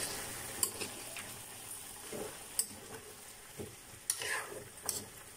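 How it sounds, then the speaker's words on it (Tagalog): Pork ribs caldereta with bell pepper and green peas is stirred in a pan, soft scraping strokes over a faint steady sizzle, fairly quiet. "Tapos haluin muna natin."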